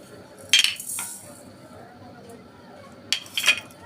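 Whole spices — cardamom, bay leaves, fennel seeds and panch phoron — stirred in a cooking pot for olive pickle, giving two brief clusters of metallic scraping and clinks against a quiet background.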